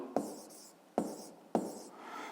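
Pen or chalk writing out a physics formula, three sharp taps each followed by a short scratchy stroke, close and fairly quiet with no talking.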